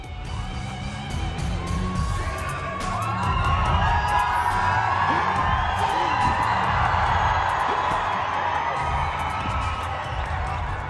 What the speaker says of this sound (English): Crowd is going ballistic.